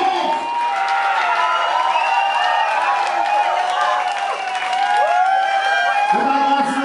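A crowd at a birthday party in the Forsage club applauds and cheers, steady dense clapping with whoops carrying on for several seconds.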